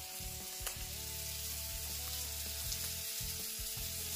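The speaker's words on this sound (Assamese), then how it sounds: "ভিতৰত পূৰা মাছ ভাজি আছে" Fish frying in a pan sizzles continuously at low volume, a steady crackling hiss over a faint droning hum, with no talk.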